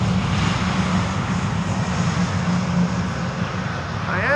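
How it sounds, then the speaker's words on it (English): A United airliner lands on Schiphol's Polderbaan runway and rolls out with idle reverse thrust, making a continuous loud engine roar and rumble that stays steady throughout. "United doing a KLM style landing. Idle reversers."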